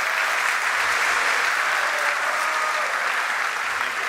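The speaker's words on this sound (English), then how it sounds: "Give him a round of applause as he comes up to the stage" Sustained, dense applause from a graduation ceremony audience as a guest walks up to the stage, loud and steady throughout with no talking over it.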